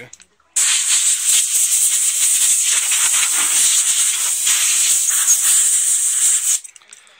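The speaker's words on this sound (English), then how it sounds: "just see that with quick blow off with the gun to get rid of some of the, the debris" An air blow gun blasts compressed air over a sanded military helmet to clear debris, a loud continuous hiss that starts abruptly, holds steady for about six seconds, then cuts off.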